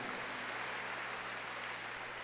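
Applause from a church congregation at a Good Friday service, a dense, continuous wash of many hands clapping at an even level for the whole stretch.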